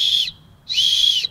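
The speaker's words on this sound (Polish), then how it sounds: "I wyskakuje nam w tym wypadku gwizdek ratunkowy." A rescue whistle from a survival gadget gives two loud, shrill, close blasts separated by a short pause.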